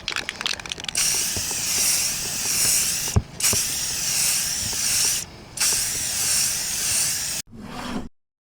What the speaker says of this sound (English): put you in when I film the spray painting